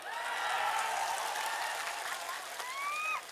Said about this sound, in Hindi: एक बार आप अपने लिए ताली बजाएं